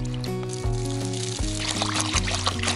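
Water pouring steadily from a tap, a continuous splashing trickle under a layer of background music.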